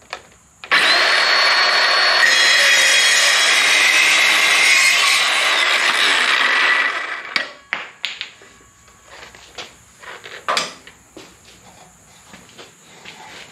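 A small cordless rechargeable power saw cuts steadily for about six seconds in a loud, continuous whine, then stops, followed by scattered clunks and handling noises.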